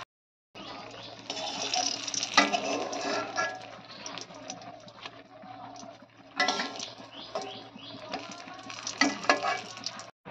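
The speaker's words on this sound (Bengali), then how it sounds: "তরুলিগুলোকে ভালোভাবে ভেজে নেওয়া হচ্ছে" Vegetables, pointed gourd after aubergine, frying in a pan for a poppy-seed dish in a home kitchen, with steady sizzling broken by louder bursts of stirring and clatter, close and continuous with no talking.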